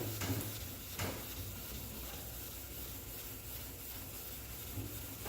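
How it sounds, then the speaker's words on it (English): Hand sanding scrubs over primer on a 1969 Dodge Dart body, a soft continuous rubbing with faint strokes, quiet and close. "I'm sanding all the way to the edge, but I'm not making sure that my paper doesn't roll."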